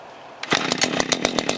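A vintage engine catches on a single pull of its starter cord after a quiet moment, then runs on with a loud, fast, even putter close by.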